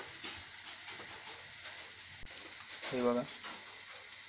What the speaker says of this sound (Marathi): एका साईडला अजून होतात फ्राय